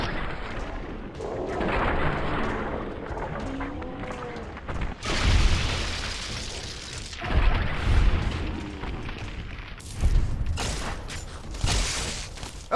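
Gunfire from a turn-based video game, several loud bursts of shots with booming impacts and mechanical clatter, set against game sound effects, with no talking.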